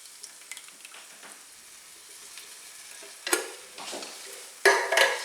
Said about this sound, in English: So now I'm going to add 1 28-ounce can of tomato sauce.